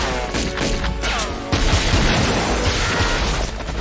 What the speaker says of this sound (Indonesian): Baku tembak pun terjadi dan Pollux berhasil ditangkap.